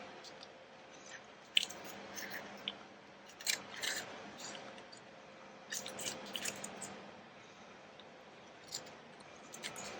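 Scissors snip through a fabric piece for patchwork journal pockets, a series of soft, close, irregular cuts over a quiet room with no talking.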